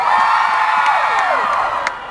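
A large crowd at a ballpark concert cheers and whoops continuously, loud and sustained with high-pitched shouts sweeping through, easing off slightly at the close.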